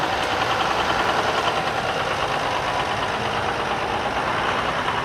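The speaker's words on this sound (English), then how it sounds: "Ford diesel." A 1960s Ford 6000 diesel tractor idles at a steady, unbroken rumble, loud and continuous, with outdoor background noise from a parade.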